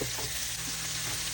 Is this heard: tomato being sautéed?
yes